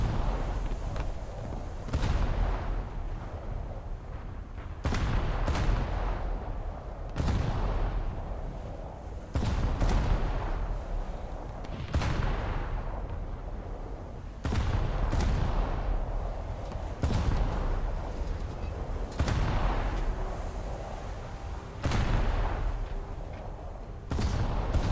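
Anti-aircraft guns fire at airborne targets in a game, sharp booming shots spaced a couple of seconds apart over a constant rumbling background, fairly loud throughout.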